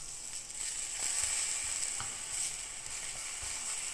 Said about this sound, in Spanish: las secamos y las pasamos por la plancha en una sartén con aceite caliente